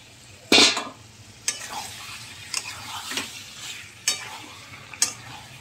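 Chicken curry with soybean and potato, seasoned with ground garam masala, frying in a pan and stirred, sharp spoon scrapes recurring every second or so over a low sizzle.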